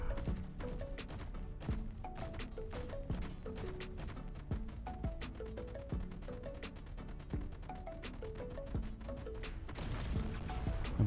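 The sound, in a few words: hydrogen tank explosion in Space Engineers video game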